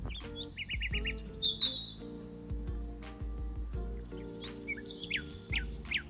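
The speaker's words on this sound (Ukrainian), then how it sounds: "Так, це спів пташок." Birds chirp and tweet in quick, high bursts, some close and some farther off, over a steady low hum.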